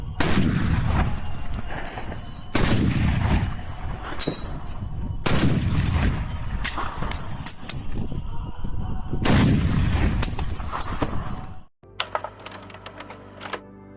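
Heavy shots from a PTRS semi-automatic anti-tank rifle boom several times a few seconds apart, each loud blast trailing off in a long rolling echo, with a sharp cutoff near the end.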